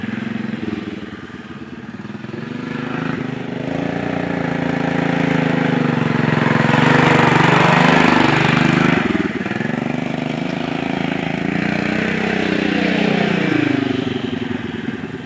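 A Yamaha TTR 125 dirt bike engine being ridden, its motor revving up and down continuously with shifting pitch, close and loud throughout.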